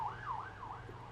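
A distant emergency siren wails, its pitch sweeping up and down repeatedly, faint in the background.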